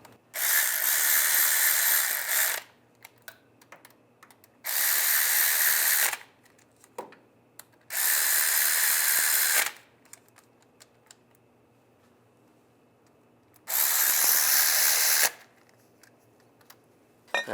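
Tightening bolts on an engine bracket of a 1999-2005 Volkswagen Jetta during a timing belt job, with four loud bursts of rapid power-tool whirring, each about two seconds long, separated by quiet gaps holding faint clicks and handling noise.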